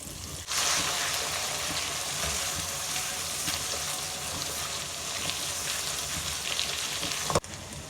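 Onion paste fries in a pan with a continuous moderate sizzle and crackle, steady from start to finish and ending with a brief clatter.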